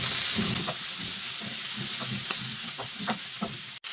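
Round-cut carrot, together with other vegetables, frying in a pan, with a steady close sizzle under repeated scraping stirs of a spoon against the pan, and one sharp knock near the end.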